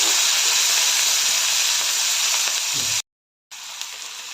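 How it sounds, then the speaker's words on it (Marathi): Onion, tomato, crushed garlic and curry leaves sauté in a hot pan with cumin, giving a loud, steady steamy sizzle that cuts out briefly near the end, then resumes. "त्यानंतर कांदा टोमॅटो बारीक कुटलेलं लसूण कढीपत्ता सर्व चांगलं परतून घेते"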